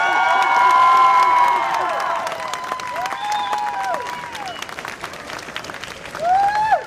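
Crowd applause and cheering at a City of Miami fire academy graduation, loud at first then easing into steady clapping with scattered shouts and whistles, swelling again near the end.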